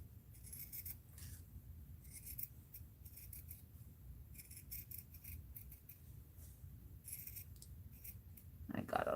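Scissors trimming fabric thread, bursts of small crisp snips and rustles close up, quiet and spaced out with pauses between cuts.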